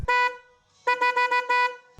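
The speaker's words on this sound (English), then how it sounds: "So here's the original horn" Original stock horn on a Harley bobber motorcycle, blown close and loud in a single blast followed by a quick burst of four short honks.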